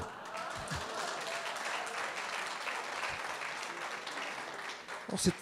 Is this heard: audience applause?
yes